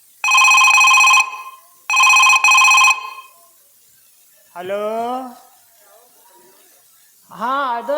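An old-style telephone bell rings in two loud bursts, followed by voices talking afterward.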